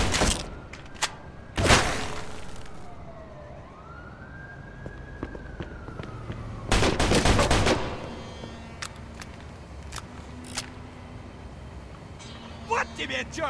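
Gunfire in the video game Mafia II: two loud, separate bursts of shots stand out against a siren-like wail and scattered thumps, with voices heard now and then.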